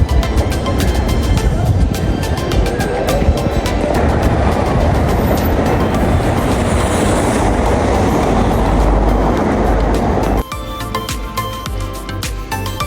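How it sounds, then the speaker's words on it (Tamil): A Paris metro train rumbles and rattles loudly along the track with clattering wheels, then the noise drops abruptly to a quieter station ambience. "வீரமேரல் மெட்ரோ ஸ்டேஷனுக்கு அருகிலாக நிற்கிறேன்"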